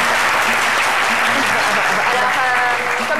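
Audience applause fills the room for a cook, a dense, steady patter of many hands clapping at close range for the full stretch, with voices mixed in underneath.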